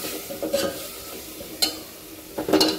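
Spice paste for tikhat varan sizzling in a pan while cooking until the oil separates, with a few louder scraping stirs against the metal; no talking.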